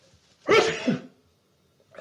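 A single loud, close sneeze or cough bursts out, followed by near silence.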